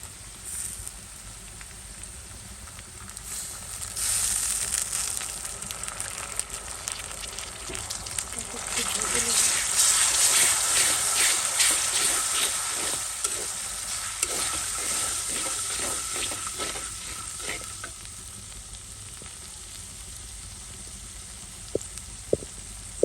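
Ginger and garlic frying in a hot pan, a bright crackling sizzle that swells after a few seconds and then holds steady and close, with stirring scrapes mixed in and faint talk in the background.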